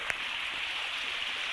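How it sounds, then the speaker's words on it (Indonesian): A small hidden waterfall in a rocky river, a quiet, steady rushing hiss of falling water with one brief splash near the start and no talking. "Nah, ini air terjun."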